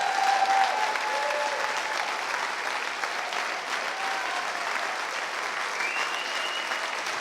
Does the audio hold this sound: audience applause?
yes